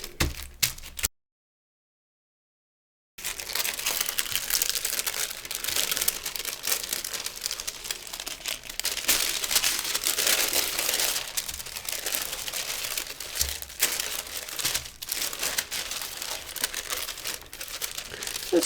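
Thin tissue paper is crinkled and crumpled by hand for gel plate printing, a close, continuous dry crackle after a brief silent gap, busy and uneven throughout.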